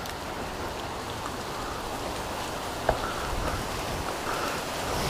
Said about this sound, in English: it wasn't supposed to rain today